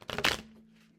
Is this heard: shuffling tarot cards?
yes